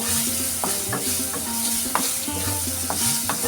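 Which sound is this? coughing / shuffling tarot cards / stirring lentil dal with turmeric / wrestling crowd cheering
stirring lentil dal with turmeric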